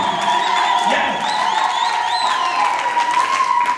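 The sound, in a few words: congregation applauding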